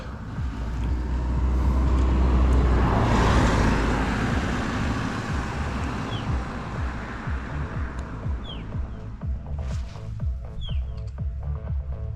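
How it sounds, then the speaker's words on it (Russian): A car drives past on a Crimean road. Its engine and tyre rumble swell to a peak after a couple of seconds, then fade into quieter outdoor background with a few faint clicks. "Машина едет, пускай едет."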